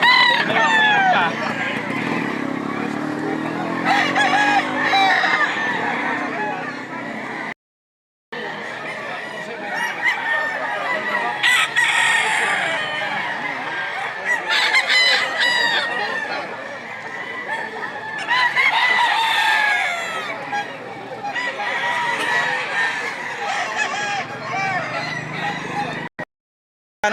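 Roosters of gamefowl crow repeatedly and cluck at a busy cockfighting-bird market in Lipa, Batangas, with crowing calls rising over a steady crowd murmur and people talking throughout.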